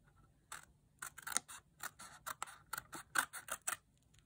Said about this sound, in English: then you're going to cut off this extra rectangle